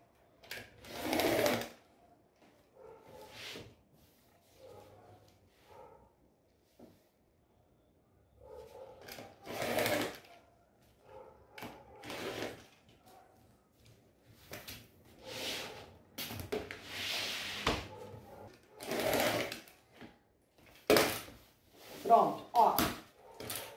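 A sewing machine runs in short bursts while stitching bias binding onto the edges of a rug made from reused fabric, pausing between runs as someone talks over it and the fabric is shifted.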